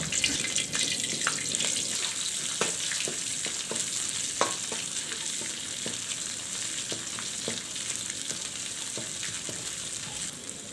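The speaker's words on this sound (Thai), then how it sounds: "ใส่น้ำมันพืชลงไปเลยค่ะ ตามด้วยพริกแกงใต้หรือพริกแกงเผ็ดนะคะ เราจะผัดพริกแกงให้หอมเลยค่ะ" Southern Thai curry paste stir-fried in hot vegetable oil, a steady close sizzle with scattered clicks and scrapes of stirring throughout, no talking.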